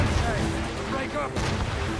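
Ship cannons boom during a naval battle in Assassin's Creed Rogue, with heavy dull blasts rolling under loud game noise and shouted crew voices across two seconds.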